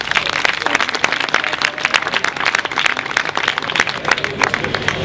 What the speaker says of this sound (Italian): Un applauso speciale in bocca al lupo al candidato alle europee che è presente